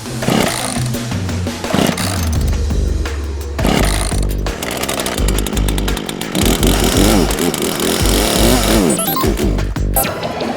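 A heavy, clunky third-party game controller imitates a chainsaw while a video game plays, giving a loud, continuous buzzing roar that swells and sputters throughout, mixed with game sounds.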